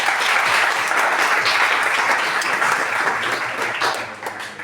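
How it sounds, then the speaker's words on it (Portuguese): An audience at a panel with former students gives a round of applause, a dense, steady wash of many hands clapping that tapers slightly near the end. "Salve de palmas para o Antônio"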